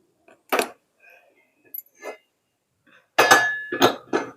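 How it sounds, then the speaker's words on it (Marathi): A metal tava griddle is set onto a gas stove. A few scattered metallic knocks lead into a louder burst of clanking and scraping near the end. "चला आता आपण तवा ठेवूया."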